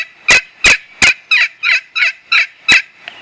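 A turkey gobbler yelp is imitated on a hunting call: eight sharp, evenly spaced notes, loud and close, with nothing else heard.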